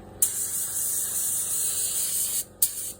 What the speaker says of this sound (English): You can control that paint, how much it sprays out.